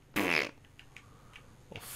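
A single loud, buzzy cartoon fart erupts in the video game Gas Station Simulator, lasting about a third of a second, followed by faint game blips and a brief trailing puff.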